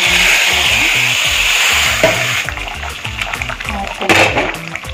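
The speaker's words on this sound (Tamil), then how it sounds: "வெங்காயம் ஃப்ரை" Onions frying in a pan while a Malabar chicken curry is cooked, giving a steady broadband sizzle with occasional stirring scrapes and a voice talking over parts of it.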